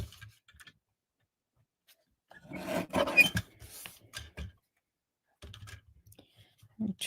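Paper being trimmed for a handmade birthday card: a quiet workspace with a short burst of scraping, clicking cuts in the middle, scattered soft taps around it, and brief faint voice sounds.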